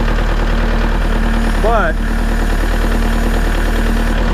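Kubota L4701 tractor engine idling with a steady, loud low rumble and rhythmic diesel knock, a brief rising squeal partway through and a person's voice briefly over it.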